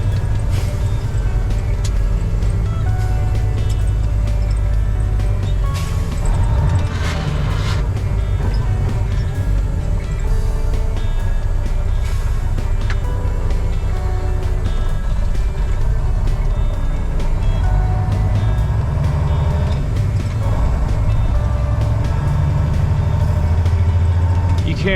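A truck engine runs steadily and loud throughout while driving, with a deep low rumble and changes in tone as gears shift, alone without talk.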